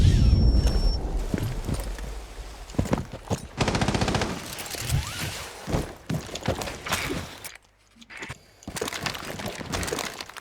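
Automatic gunfire shooting through walls in Rainbow Six Siege, loud bursts of rapid shots with impacts and thuds, pausing briefly before more firing, no speech over it.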